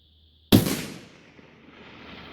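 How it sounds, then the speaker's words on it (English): A single loud rifle shot at a target splits a quiet outdoor scene, its sharp crack trailing off into a long, fading echo. "So I'll put a shot down real quick with that correction."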